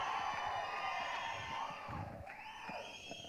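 An audience at the Iru Mugan film event breaks into applause and whistling, a steady hiss of clapping with a few thin whistles rising near the end, heard faint and at a distance.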